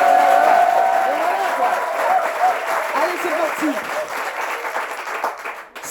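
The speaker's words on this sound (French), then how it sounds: "donnez-moi des applaudissements déjà pour dire que vous êtes là." Audience at a Bible quiz show applauding in a warm, sustained wash of clapping that thins toward the end while a host speaks over it.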